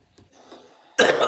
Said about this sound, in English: sorry, I have a cough on me